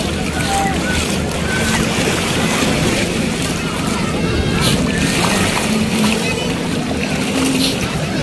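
Waves wash and surge continuously against a boat, with steady wind rumbling across the microphone throughout.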